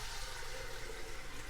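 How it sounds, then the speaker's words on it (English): Homemade bone broth pours steadily from a pot through a wire mesh strainer, making a continuous, full rush of liquid that stays even and close throughout. "So we'll take our bone broth, pour it into the strainer."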